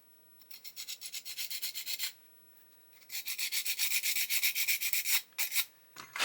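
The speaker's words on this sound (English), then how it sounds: "I'm going to sand a little bit more off of there because I can see we've got contact here." Sanding a painted part of a 1/8 scale Pocher Porsche 917 model: two stretches of steady, close back-and-forth rubbing strokes separated by a brief pause, ending in a few short scrapes.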